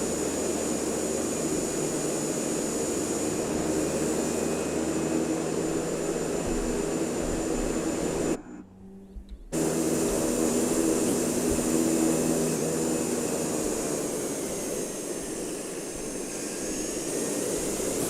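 A bush plane landing near trees in a flight simulator game, a loud, steady engine drone that cuts out abruptly for about a second midway, then resumes and slowly eases down, with no talking.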